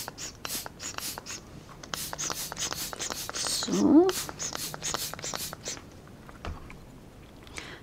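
A white marker pen dabs dots onto paper, a steady run of quick, light tapping clicks, close and soft, with a brief spoken word near the middle.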